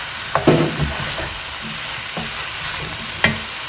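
Noodles being stirred in a hot pan with dark soy sauce and oyster sauce, giving a soft sizzle under scraping and clacking of the utensil, with a few distinct knocks against the pan.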